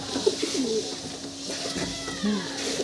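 Inside a pigeon loft, a pigeon gives a few low, drawn-out coos at moderate distance against a steady background hum, with soft rustling between the calls.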